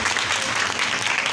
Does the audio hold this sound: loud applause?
yes